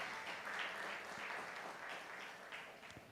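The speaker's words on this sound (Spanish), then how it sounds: "Denle el aplauso al Señor." Applause from a church congregation during a Spanish-language sermon, steady and fairly faint, a dense patter of clapping running through the whole stretch with no voices on top.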